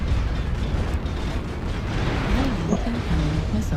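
Missile explosions in MechWarrior Online, a dense continuous rumbling roar of blasts, loud and close, with faint tonal game signals toward the end.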